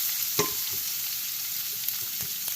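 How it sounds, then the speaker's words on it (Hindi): Mixed vegetables stir-fry in a lightly oiled pan, a steady close sizzle broken by a few sharp scrapes and taps of the spatula, with no voices. "सारी सब्जियों को थोड़ा सा पैन में डाल के एंड में मैं ये सॉस डाल दूँगी"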